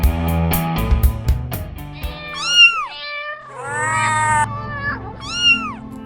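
A cat meows several times in drawn-out, rising and falling cries, close and clear, after a few brief knocking sounds at the start, with no talking.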